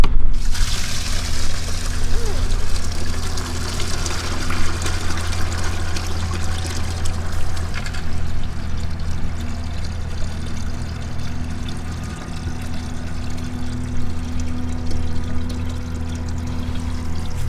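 Dirty water from a carpet cleaner's recovery tank is poured out in a steady, close, continuous splashing stream that runs the whole time, with a low hum underneath.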